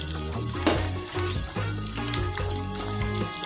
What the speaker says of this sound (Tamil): ரொம்ப ஃப்ரை ஆகக்கூடாது தேங்காய்